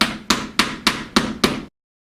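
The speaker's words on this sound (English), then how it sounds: "Now I'm gonna hammer them because my nails don't go all the way" Six sharp hammer blows striking nails into a wooden art frame, evenly spaced and close, each with a brief ringing decay, then silence.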